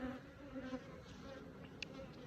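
Faint buzzing of honeybees around a Langstroth hive drifts in and out over a quiet background, a soft, wavering hum with a small click near the end.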